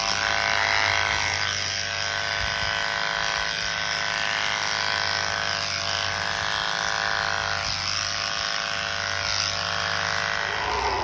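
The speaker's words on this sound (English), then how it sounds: "Same principle of shearing down using a smaller clipper." A small electric clipper buzzes steadily while shearing down a sheep's front leg, a continuous high-pitched motor whine with slight dips as the blade works through the wool, close and sustained.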